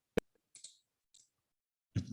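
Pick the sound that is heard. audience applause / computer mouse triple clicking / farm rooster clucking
computer mouse triple clicking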